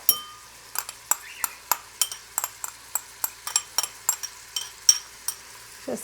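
Bacon and onion are mixed in an Instant Pot, with a utensil striking the pot in a steady run of about sixteen sharp, close clinks and scrapes, roughly three per second, and no talking.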